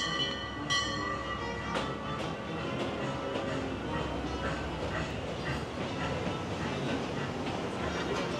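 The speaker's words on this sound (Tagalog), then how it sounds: "Dito na yung tren." A train rumbling steadily with a broad, constant roar, a few sharp clanks and a faint bell-like tone near the start; no one speaks.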